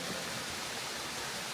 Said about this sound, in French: Seconde cascade, normalement il y en a une troisième.